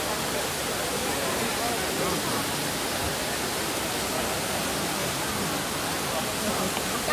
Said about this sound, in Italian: Fontana di Trevi.